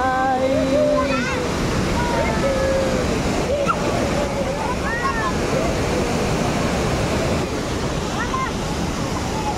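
Tinuy-an Falls in Bislig City, Surigao del Sur, roars as a steady, loud, broad wash of falling water, with people talking and calling out over it.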